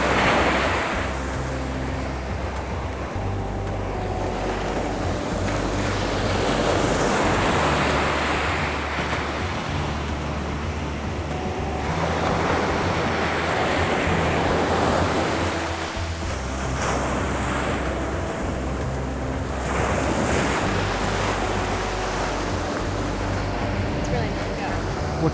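Ocean surf rolls onto a beach in steady repeated washes while strong wind buffets the microphone, loud and continuous throughout, with a person occasionally talking over it.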